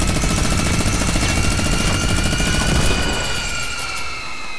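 A video-game minigun firing in one continuous, loud, dense roar with a steady high mechanical whine, easing off slightly near the end.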